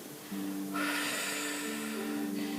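A long, forceful exhale through the mouth during a breathing exercise that engages the pelvic floor and pulls the belly in. The close, breathy rush swells and holds steadily.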